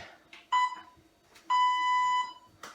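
Workout interval timer sounding a short beep and then a longer held beep about a second later, clear and fairly loud over a quiet room.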